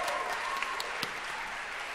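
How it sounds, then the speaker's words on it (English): A convention audience in Harrogate applauds at a barbershop quartet concert, a dense, steady wash of clapping from many hands that holds at an even level throughout. "Can you give them a round of applause?"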